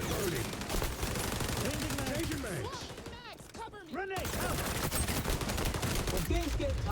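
Rapid gunfire in the shooter game XDefiant rattles in dense bursts almost throughout, with a short lull near the middle, mixed with game effects and some voice.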